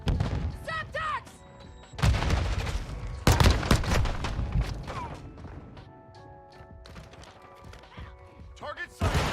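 Call of Duty firefight with bursts of gunfire and thudding grenade blasts, sharp loud volleys cutting in and out while in-game voices call out over the shooting.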